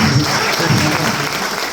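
Steady audience applause from a crowd at an indoor business program in Andhra Pradesh, a dense wash of clapping holding at an even level from start to finish.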